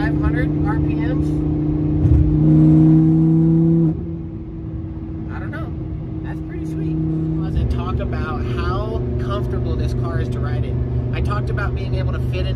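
Lamborghini Huracan V10 engine holds a loud, steady rev with a brief higher surge, then settles to a lower drone that rises again, with a person talking over it throughout.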